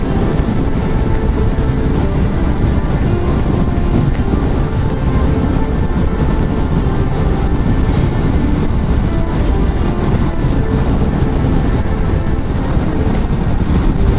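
Constant heavy wind buffeting and road roar while riding a BMW R1200RS motorcycle on an expressway, loud and unbroken throughout with no voices.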